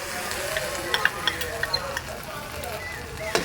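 Ginger garlic paste frying in a pan, a bright continuous sizzle with a run of quick spatula taps and scrapes as it is stirred, close and fairly loud.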